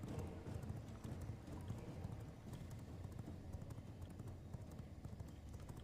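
Horse hooves gallop in a competitive PvP video game, a fast, steady run of clip-clopping hoofbeats that stays fairly quiet and even from start to finish, with no one talking.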